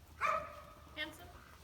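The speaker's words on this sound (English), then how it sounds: "Ooh, what a pretty dog." A dog gives two short barks on an outdoor walk, a louder one and then a softer one, close by under light background noise.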